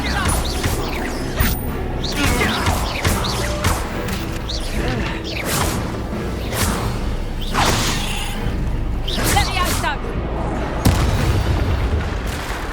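Combat in Hogwarts Legacy as an Incendiary fire spell is cast: a run of whooshing bursts, crashes and booming impacts, dense and loud, with brief game voices breaking in.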